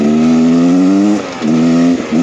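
A 2023 Beta Xtrainer 300 two-stroke enduro motorcycle revs loudly up close, its high steady engine tone dipping briefly twice before climbing again.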